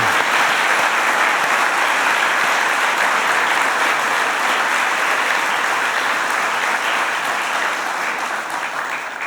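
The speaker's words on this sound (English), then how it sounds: "So let us give a special applause for your support networks as well" A large graduation audience claps continuously for the full stretch, a dense, even wash of applause that stays loud and only eases slightly near the end.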